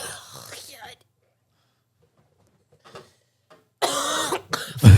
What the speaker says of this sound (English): What was that cough?